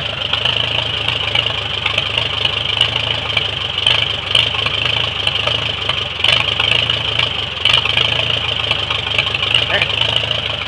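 1945 Farmall A tractor engine idling after a cold start, a steady close rumble with a rhythmic knocking beat that runs throughout.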